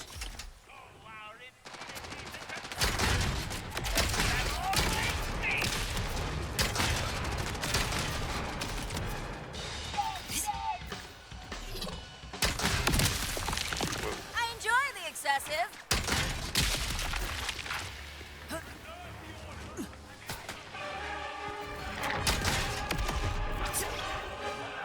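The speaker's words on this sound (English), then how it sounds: "we're going to show some mobbing with the rocket launcher" Rocket launcher explosions erupt in Borderlands 3 during a mobbing run with a Vex build, a dense, nearly continuous barrage of blasts and crackling impacts heard throughout under a player's ongoing talk.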